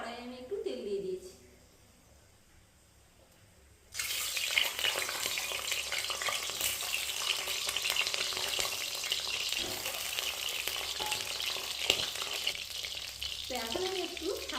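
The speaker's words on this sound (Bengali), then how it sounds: "তো এখন কিন্তু আমি ডিমগুলো ভেজে নেব।" Boiled eggs fry in oil in a wok, a loud steady sizzle that bursts in after a quiet stretch and carries on with occasional stirring noises, while a voice speaks briefly at the start and end.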